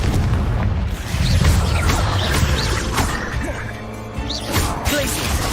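Spell explosions from Confringo and Bombarda in the video game Hogwarts Legacy, a dense run of booms and crashing bursts layered over continuous combat noise, loud and close throughout.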